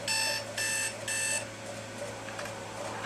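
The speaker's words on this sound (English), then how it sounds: "clock just went off." An alarm clock goes off in the Xbox 360 game Dead Space 2, sounding as three loud, evenly spaced electronic beeping bursts before fading into the game's ambient hum.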